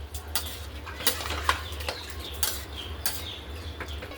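A spoon clinks and scrapes inside a pressure cooker while soybean pulao with salt is stirred, sounding as a few sharp metallic taps and scrapes over a quiet low room hum, with no speech.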